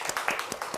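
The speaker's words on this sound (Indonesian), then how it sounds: "Beri tepuk tangan." A small group claps quick, slightly uneven beats in a classroom session, faint and brief with no voices over it.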